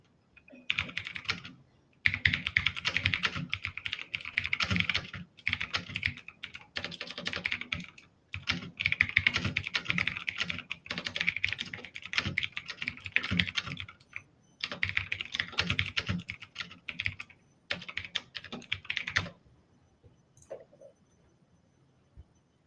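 Fast typing on a computer keyboard during a hands-on coding workshop, with dense bursts of close key clicks separated by short pauses and stopping near the end.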